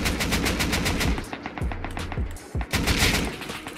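Rapid automatic gunfire in a shooter game, loud bursts of fast shots at close range, broken by short pauses and a few single cracks, with no talking.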